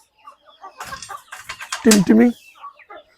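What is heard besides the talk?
chickens and chicks clucking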